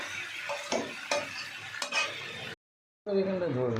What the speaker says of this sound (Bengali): ধনে গুঁড়ো জিরে গুঁড়ো হলুদ গুঁড়ো লঙ্কা গুঁড়ো দিয়ে সুন্দরভাবে ভাজা হয়ে গেছে